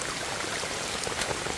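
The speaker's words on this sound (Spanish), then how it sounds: "Vaya, gente, fuerte creciente." A river swollen into a strong flood after heavy rain rushes steadily, a broad, even roar of water that holds constant and close throughout with no talk over it.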